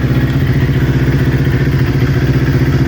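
A newly built motorcycle engine idling as it warms up, supposedly starting to bog down. It gives a loud, close, steady throbbing run with a slight clattery texture and no voices.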